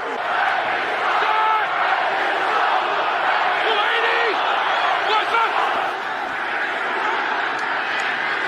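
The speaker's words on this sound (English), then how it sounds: "Now it's third and 10, and this crowd is worked up." Dense roar of an NFL stadium crowd during a third-down play, a sustained wall of cheering and shouting with occasional whoops rising out of it and no pause.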